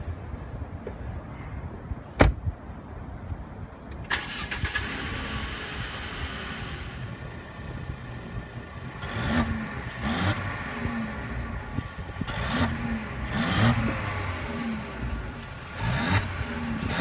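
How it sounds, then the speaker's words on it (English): A 2016 Mercedes-Benz GLC 300 with a 2-liter four-cylinder gasoline engine starts up, then its revs are blipped several times at close range over a steady idle, with no talking. "Now let's start up the GLC 300 and hear how it sounds."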